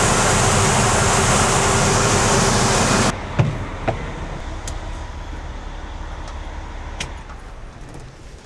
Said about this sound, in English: We got the blower motor changed.